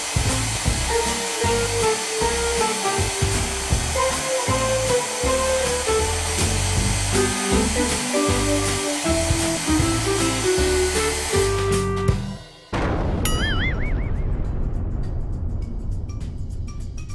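A hairdryer blows a steady stream of air with a loud, continuous whoosh and motor whine. Near the end it cuts out sharply, then comes back with a changed, more airy rush.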